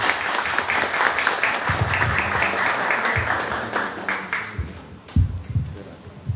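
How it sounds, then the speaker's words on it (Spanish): An audience at a round-table event on Paraguayan literature applauds to welcome a speaker, with steady, dense clapping that thins out and fades near the end. "Vamos a recibir con un aplauso a Marcos."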